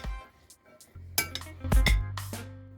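A spoon mixing sugar into a bean salad, giving several light clinks and scrapes against the bowl in a short, uneven cluster, close and fairly quiet with no talk.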